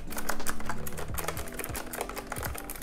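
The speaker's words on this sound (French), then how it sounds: "même le bruit quand on tape, ça vraiment, ça nous rappelle la machine à écrire" Rapid, dense typing on a typewriter-style keyboard with a zinc alloy frame and leather trim, with clacky keystrokes in a steady stream, close and loud, and no speech.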